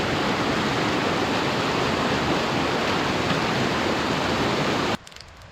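Dr. Creek flowing at a backpacking trail crossing in the Bob Marshall Wilderness, a loud, steady broadband rush of water that cuts off abruptly near the end.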